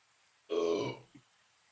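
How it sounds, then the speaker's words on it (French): One short, loud, close burp rumbles for about half a second, followed by a tiny second gulp, with near silence on either side. "Pardon, je t'ai roté à la gueule."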